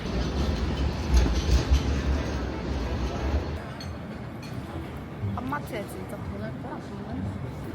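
A tram rumbles past with clattering wheels, loud at first then fading, leaving lighter street noise and some faint voices, in Sydney.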